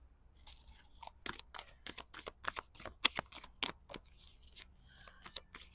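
Tarot cards are shuffled in a quick, close series of crisp riffling snaps and flicks, fairly quiet, with no talking.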